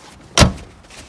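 A solid door on a 1986 Pontiac Acadian shuts with one short, firm thump, close by and sharp, over a low background hum.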